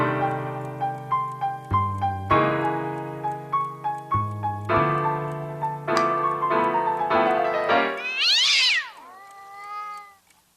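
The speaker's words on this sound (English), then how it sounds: "How the hell did you get in here, cat?" A cat meows repeatedly in a loud, rhythmic series of drawn-out cries close by, ending in a rising, wavering yowl, with no talking.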